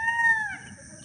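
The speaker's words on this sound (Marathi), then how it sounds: "आता ह्यामध्ये एक मोर हा जो ओरडतो आहे" A peacock gives a single loud, high-pitched wailing call that slides downward, close by and alone.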